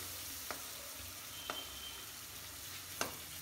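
Rajasthani mirchi vada frying in hot oil in a kadhai: a soft, steady sizzle throughout, broken by a few sharp pops spaced about a second apart, fairly quiet and with no voices.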